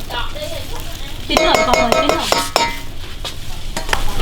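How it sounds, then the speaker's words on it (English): A utensil scrapes and clatters through a pot of seafood boil in a spicy garlic butter sauce. The stirring is loud and close, with metallic knocks and a sizzling bubbling underneath. "Just stir a little bit."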